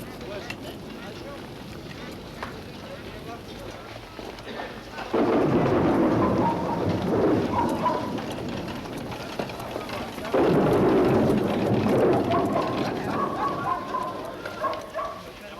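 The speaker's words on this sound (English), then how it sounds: "hurry, before this storm breaks upon us" A thunderstorm rolls on under steady rain, with two heavy, rumbling thunder peals surging up several seconds apart and then slowly fading.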